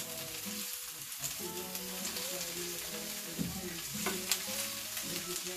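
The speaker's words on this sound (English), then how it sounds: "It's browning pretty fast." Food browns in a hot pan with a continuous, even sizzle and hiss, a few light stirring knocks, and soft tonal sounds in the background.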